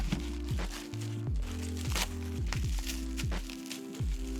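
Blade slicing through plastic packaging around car suspension parts for a G35/350Z drift car, a run of crinkling, crackling cuts close by, with repeated short scraping strokes.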